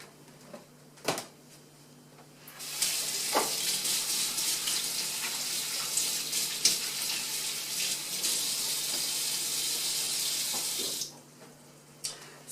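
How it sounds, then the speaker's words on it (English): Tap water runs steadily into a sink as hands are washed in a home kitchen, a broad continuous rush for about eight seconds, with quieter handling clatter before and after. "Let me wash my hands and we'll get started."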